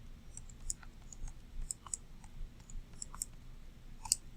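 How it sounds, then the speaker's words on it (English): Scattered light clicks of calculator buttons being pressed to enter numbers, quiet and irregular, with a few sharper taps standing out against a faint low background hum. "I'm going to type that in on my calculator"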